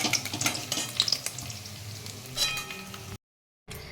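Paneer pieces frying in refined oil make a close, crackling sizzle with light utensil clinks and stirring, then cut to a short silence before the frying resumes.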